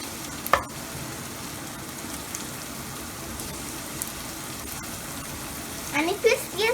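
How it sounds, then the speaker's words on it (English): Upittu frying in a pan makes a steady, close sizzle with a dense crackling hiss throughout, a few brief knocks, and a voice speaking near the end. "Fry it up very well."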